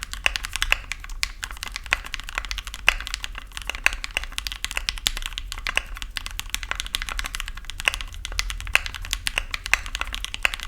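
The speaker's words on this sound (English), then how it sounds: "this is a tray mount keyboard, meaning a pretty stiff typing experience, a hollow sound potentially with no dampening" Steady, fast clicking of keys on a Tofu 60 tray-mount mechanical keyboard with no dampening, giving a stiff, hollow, slightly uneven clack; continuous close typing with no voices.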